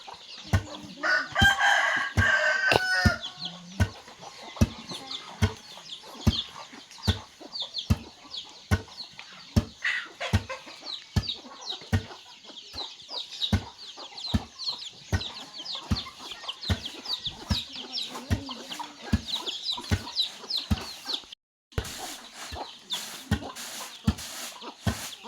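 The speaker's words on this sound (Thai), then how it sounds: "ไก่ลายแล้ว" Barred chickens cluck steadily and often, with a rooster crowing loudly near the start, over a busy background of bird chatter at a rural home.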